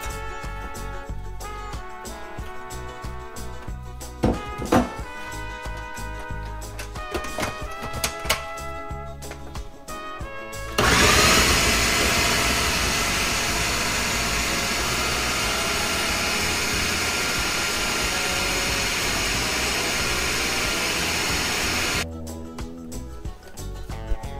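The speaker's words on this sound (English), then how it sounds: "I cut them in pieces and put it in my food processor for about 30 seconds" A food processor whirs loudly and steadily for about eleven seconds as it chops pieces of skinless wild-caught salmon, starting abruptly and stopping just as suddenly, with quieter kitchen clatter before and after.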